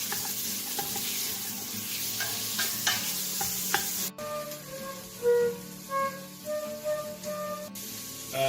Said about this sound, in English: All we want to get is the bacon grease going here.